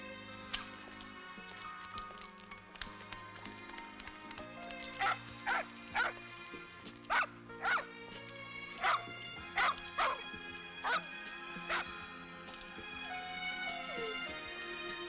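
A dog in the French crime drama film Le Justicier au Gardénia barks repeatedly, about eight sharp, evenly spaced barks in the middle stretch, with quieter whimpers and yips before and a low background hum throughout.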